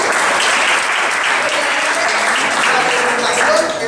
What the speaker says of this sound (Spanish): por favor, un aplauso para el trabajo